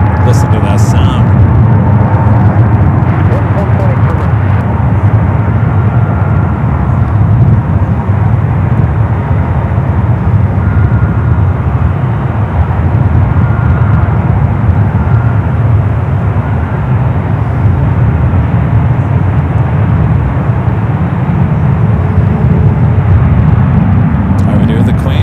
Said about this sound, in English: Lufthansa 747-400 now heading out.